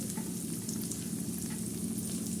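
Onion and green chilli tempering sizzles loudly in hot oil as tomatoes go into the pan, a steady close crackle and hiss that runs unbroken throughout.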